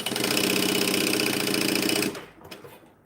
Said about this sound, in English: Needle down, stitch, back stitch, twice.